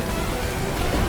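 A steady, dense hiss of falling rain fills a brief moment, loud and even with no distinct drops or voices.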